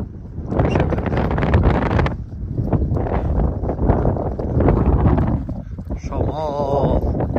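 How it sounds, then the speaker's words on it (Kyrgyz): Outdoor wind buffets the microphone as a rough, continuous roar that is loud and close, mostly drowning out someone speaking throughout. "Шамал."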